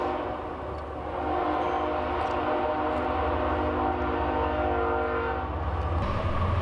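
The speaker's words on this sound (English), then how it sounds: "Well, train's here." A train passes close by with a loud, steady rumble of rail cars and a sounding horn tone, continuous throughout; no talking.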